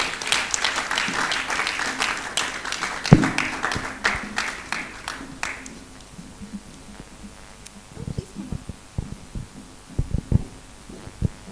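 Applause for an embassy representative at a governance panel session rises briefly and thins out within a few seconds, followed by scattered thumps and faint room noise.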